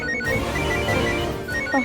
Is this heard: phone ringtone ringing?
yes